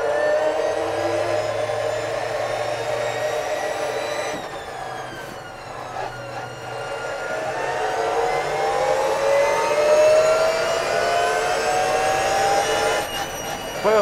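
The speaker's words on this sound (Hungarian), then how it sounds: "Nem a villanymotor miatt víjogkornél, hanem az egyenes fogozású váltó miatt." A high, rising whine from the straight-cut gearbox of an electric restomod Mini on a race track, sweeping up and down in pitch as it accelerates, loud and close from inside the car with a steady drivetrain hum beneath.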